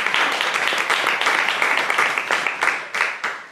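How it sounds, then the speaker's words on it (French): Audience applause following a conference talk, steady dense clapping from a crowd in a hall, moderately loud with a few sharper individual claps standing out near the end. "On peut aussi applaudir."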